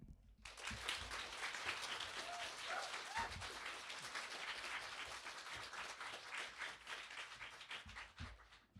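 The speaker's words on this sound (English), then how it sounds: "And another round of applause for our photographer." An audience at a senior reading breaks into applause, a full round of clapping from many hands that rises quickly, holds steady for several seconds and gradually thins toward the end, heard at a modest distance.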